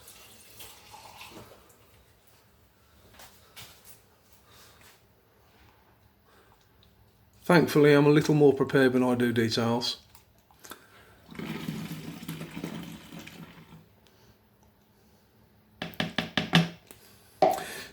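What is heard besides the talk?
warm water being added to a foam cannon soap mix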